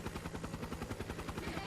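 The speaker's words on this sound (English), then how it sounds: "What's that sound? A helicopter?" A helicopter in the video game Trails of Cold Steel 3 passes overhead with fast, even rotor chopping that thuds rhythmically and stays moderately loud throughout, with no talk.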